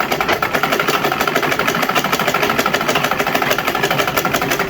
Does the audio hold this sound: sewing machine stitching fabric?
yes